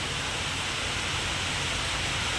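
Heavy rain pours down steadily as a loud, dense, unbroken hiss, with no voices.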